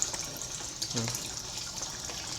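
Strong water current from a pump rushes steadily through a tilapia aquarium at home, a continuous close hiss with a brief murmur of voice partway through.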